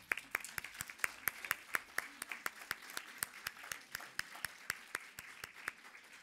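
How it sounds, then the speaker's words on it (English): An audience at an evening humanities event at the Melbourne Museum claps steadily for several seconds, a moderate crowd applause with sharp individual claps standing out, heard somewhat distant with no talk over it. "I think they deserve another round of applause."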